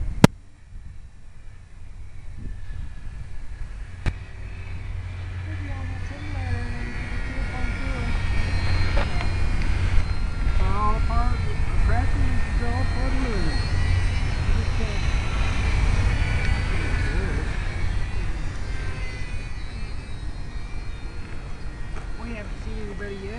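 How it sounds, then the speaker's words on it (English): A small propeller airplane drones in flight near Lake Elsinore, its engine a steady close hum that swells louder after the first few seconds and then holds, with faint voices mixed in. "Little wind shouldn't bother a little plane like this."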